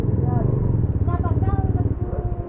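A motorcycle passes on a street, a steady low engine rumble close by throughout with a brief rise in the middle, under nearby voices.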